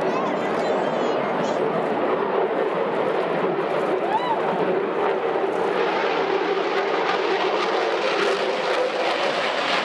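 F-15 fighter jets roar overhead in formation at a National Day Parade display, a loud sustained jet rumble, with a commentator's voice announcing over the engine noise.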